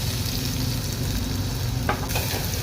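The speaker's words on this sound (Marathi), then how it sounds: "एक बारीक चिरलेला कांदा" Finely chopped onion shallow-frying in hot oil in a cooking pot makes a constant close sizzle and crackle, with a brief scrape of stirring toward the end.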